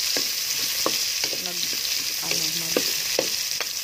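Chopped onions sizzle steadily in a hot pan for a nilaga with jackfruit, with a constant hiss and scattered spatula scrapes and taps throughout, close and fairly loud with no talking.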